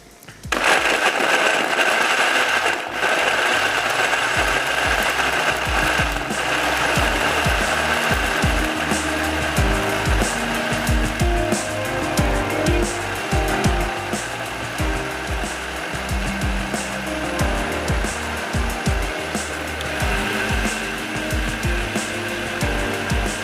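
A kitchen grinder whirs steadily, blending gravy ingredients with water for a turnip and meat dish into a smooth paste, a loud continuous motor drone running for over twenty seconds with no talk.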